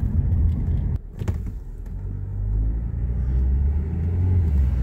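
A Ford Focus drives and shifts gears, with a deep engine and road rumble filling the cabin, a brief dip and clunk near the start, then the drone building steadily again.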